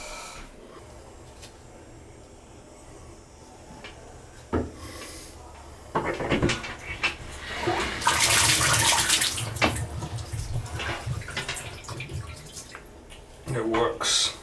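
Water runs from an old three-handle bathtub valve, a soft steady rush that swells louder midway and again near the end, with knocks and clatter in between and a person talking over it.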